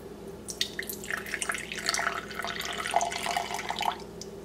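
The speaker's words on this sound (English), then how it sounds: "So now I'm going to pour the rest of my espresso into my mug." Espresso poured from a small cup into a mug for a caramel latte, a thin trickling liquid stream with light splashes and drips, fairly close and quiet over a low background hum.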